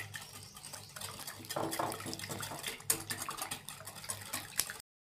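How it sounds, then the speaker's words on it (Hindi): Sugar, salt and yeast are stirred together in a bowl for pizza dough, with soft scraping swirls and light clinks from a utensil against the bowl, fairly faint and close throughout. "ये चीनी आ गई है और ये नमक आ गया और ये ईस्ट आ गया और मैं इसको मिक्स कर लूँगा"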